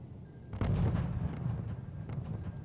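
Artillery guns fire in the strategy game RUSE, a deep booming blast followed by a rumbling roll of further distant shots and low battlefield noise.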